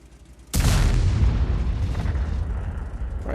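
A tank gun in the video game World of Tanks fires a sudden loud boom after a quiet moment, followed by a long rumbling decay that fills the rest of the scene.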